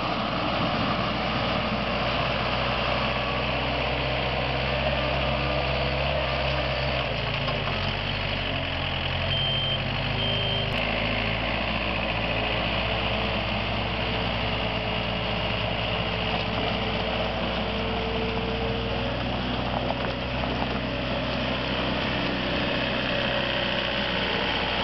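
A Wacker Neuson 280 wheel loader's diesel engine runs steadily nearby at a demo in Birmingham, Alabama, a continuous rumble with the pitch shifting slightly as it works.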